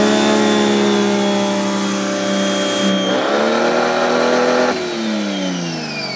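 A power washer runs off a Bluetti AC500 portable power station, its motor droning steadily and loud, then shifting pitch and pulsing as the load changes partway through, with no talking.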